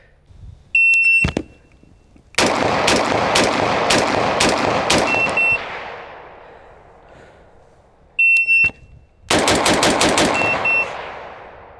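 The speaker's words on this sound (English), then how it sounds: "I have my timer set up for 2 sets of 6 shots each." Two rapid strings of six rifle shots at an outdoor shooting range, loud and close, each burst preceded by a shrill electronic shot-timer beep, with a quiet pause between the sets.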